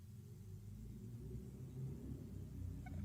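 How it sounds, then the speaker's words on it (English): Low, continuous rumble of a very loud car passing outside, heard faintly through walls as a muffled, steady droning roar. "That's the loudest car I've ever heard"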